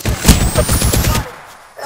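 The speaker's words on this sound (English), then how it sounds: "You can't dodge heavy artillery." Heavy artillery fire in Apex Legends arrives as a loud, rapid string of close booming blasts for about a second before fading out.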